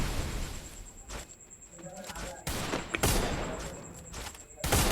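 Gunfire in a Free Fire custom match breaks out in several sharp bursts of shots, loud and close, separated by short quieter gaps with faint game sounds between them.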